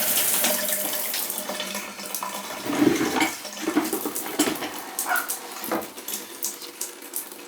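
Water draining down a clogged shower drain that had been backing up, a steady close gurgling and running-water sound with bursts of sloshing partway through, continuous with no talk.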